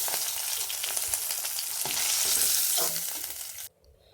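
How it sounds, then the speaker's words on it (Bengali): Spices crackle and sizzle loudly in hot oil in a pan where pomfret fish has been frying, a dense steady hiss that cuts off abruptly near the end. "এখন আমি ফোড়ন দিয়ে দিলাম।"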